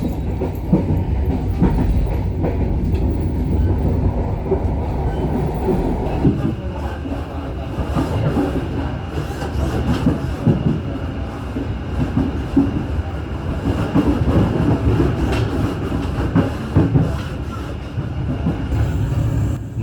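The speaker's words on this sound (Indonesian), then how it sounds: "kereta api Tegal Bahari mendarat dengan sempurna di stasiun Cirebon Prujakan" The Tegal Bahari economy-class train rolls along the rails near Cirebon Prujakan station with a loud, continuous rumble and rhythmic clickety-clack of wheels over rail joints, heavy and close throughout.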